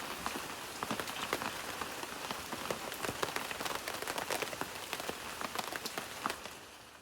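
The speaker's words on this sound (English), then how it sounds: "it's raining in the rainforest" Steady rain falling in a rainforest, with dense pattering drops hitting surfaces throughout, moderately quiet and with no voices.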